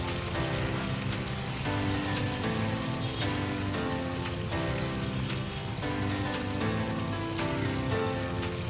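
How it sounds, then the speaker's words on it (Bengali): Brinjal gravy bubbles in a pan over a medium gas flame, a dense, steady crackling sizzle that runs continuously and fairly loud with no voices. "এবার গ্যাসের ফ্লেম মিডিয়াম করে দিয়ে গ্রেভিটা মিনিট 5 ফুটতে দেব।"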